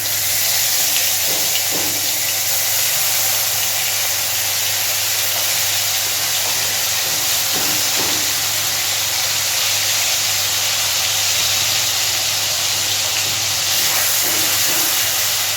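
Tomato and garlic paste hits hot oil for a Bengali koi fish tel jhal, giving a steady, close, loud sizzle and hiss that holds for the whole stretch with no talking.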